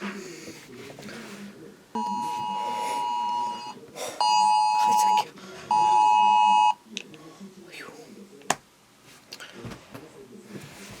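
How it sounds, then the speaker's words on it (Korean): An electronic alarm rings in three bursts of rapid, bright beeping, each lasting about a second or so, with quieter household sounds and a bit of talk around them. "오늘 좀 유독 알람이 많이 울리네요."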